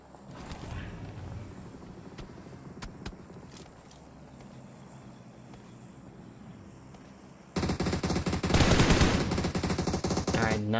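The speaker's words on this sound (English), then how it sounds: "SK Bot laying down some shots." Gunfire in the PUBG Mobile video game, with scattered single shots at first and then a dense, loud burst of rapid automatic fire in the final few seconds.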